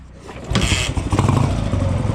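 A motorcycle engine cranks over and catches at about half a second, then settles into a loud, steady, slightly uneven idle close by, following a quieter lead-in.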